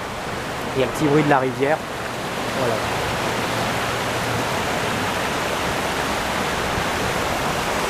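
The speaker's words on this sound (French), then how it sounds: "il y a le petit bruit de la rivière" A river in Sapporo, Japan flows steadily as a broad, constant rush of water close by. A voice speaks briefly at the start and is then drowned out.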